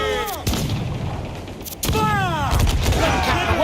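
Ship cannons firing in the pirate game Assassin's Creed Black Flag, with two loud booming shots about a second apart over ongoing battle noise and whistling projectiles at sea.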